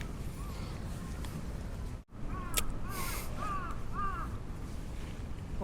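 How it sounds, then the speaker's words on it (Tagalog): A crow caws a few times at a moderate distance over a steady background rumble, the calls short and hoarse. "Yung uwak nakikisali sa amin eh."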